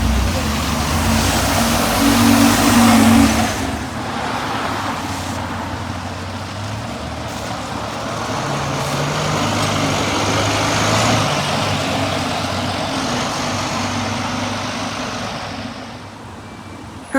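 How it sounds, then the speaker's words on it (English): A First West of England Volvo B9TL double-decker bus rounds a corner on a street in Keynsham near Bristol, its diesel engine rumbling loud and close, swelling and then easing as it pulls in, with a voice speaking over parts of it. "Here is my next bus just coming around the corner from Ashton Way."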